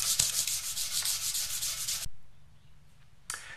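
Sandpaper rubs back and forth over a guitar's hard clear-coat finish in quick, even strokes, then stops briefly before starting again, close up and without voices.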